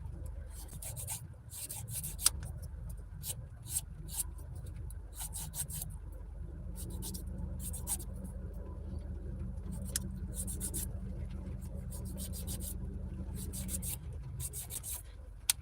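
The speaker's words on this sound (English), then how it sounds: "I'm filing my nails" Fingernails being filed with a nail file, short scratchy rasps in irregular bursts over a constant low engine rumble from a moving car.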